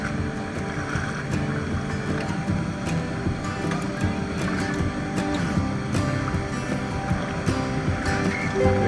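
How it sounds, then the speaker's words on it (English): Small falls tumble into a miniature gorge just below a creek crossing in Cape York, a steady broadband rush of water with splashy detail, continuous and fairly close. "what an absolute treat Sam's Creek is, with these tiny falls and miniature gorge just below the crossing"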